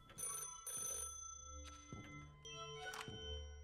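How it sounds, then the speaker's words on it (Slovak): A telephone rings as a wake-up call at 3:45 in the morning, sounding in several repeated bursts of bright bell-like tones with a low hum beneath, fairly close and clear without talk. "Každé ráno sa necháva budiť telefónom, aby náhodou nezaspal."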